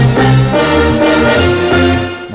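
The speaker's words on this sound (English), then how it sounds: "Now together with the brass sounds." Layered bass lines join brass sounds in a short, loud, dense music passage with sustained harmonic tones and a steady low groove.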